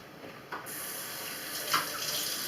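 Water runs steadily from a kitchen tap while cranberries are rinsed for jelly, a close continuous hiss with brief splashy surges as the flow hits the fruit.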